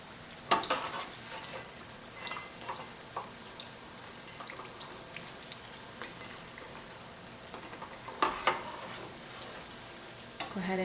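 Khari puri, savory flat bread made with rice flour, frying slowly in hot oil, giving a steady soft sizzle and bubbling with occasional sharper crackles and pops, close and unaccompanied by speech.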